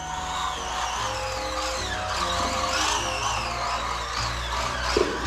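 A small, lightweight budget RC car runs on a carpet course, its motor whining steadily with rising and falling pitch sweeps as it accelerates and turns, close and continuous throughout.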